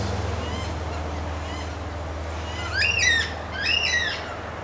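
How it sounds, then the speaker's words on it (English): White-tailed black cockatoos give two loud, wavering squawking calls, rising and falling, over a low steady hum of a morning street. "White-tailed black cockatoos."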